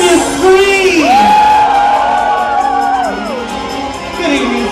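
A packed nightclub crowd at a queer venue screams, whoops and cheers loudly and continuously, with sustained yells rising and falling over dense crowd noise.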